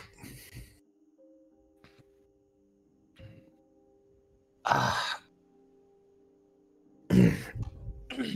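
A voice imitates a person coughing in rubble during a tabletop role-playing session, with a few separated rough coughs and throat-clearing bursts, louder near the middle and end, between quiet stretches with a faint hum.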